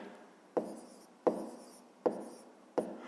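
Pen or pencil strokes on paper as numbers are written by hand for a fifth-grade subtraction problem: four short scratchy bursts at a steady, even pace, close and quiet, with no talking.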